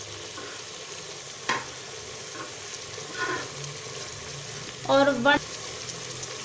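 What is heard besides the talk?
spices frying in curry masala in a pan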